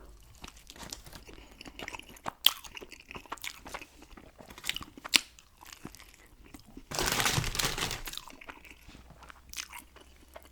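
Crunchy Taco Bell taco bitten and chewed up close, with a few sharp crisp snaps scattered through and a denser burst of crackling crunch near the end, no talking.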